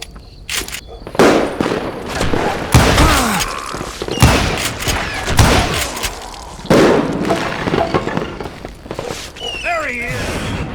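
Gunfire crackles in the western video game Call of Juarez: Gunslinger, with rapid, loud shots in irregular bursts, ricochet whines and shattering debris, as voices shout among the shooting.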